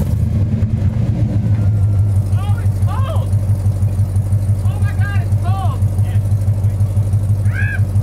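A Corvette with glass pack mufflers rumbles loudly and steadily at close range, a deep continuous exhaust drone with a few faint higher squeaks riding over it.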